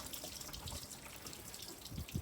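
Water splashes and trickles into the scuttle drain of a VW Caddy Mk2 1.9 SDi, a steady close wash of flowing water with a few louder gurgles near the end, no talking.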